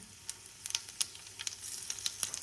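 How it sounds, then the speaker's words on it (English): About a teaspoon of cumin seeds sizzles in hot vegetable oil over a medium-high gas flame, giving a steady close crackle punctuated by sharp little pops. "So when the oil is heated up, add the cumin seed."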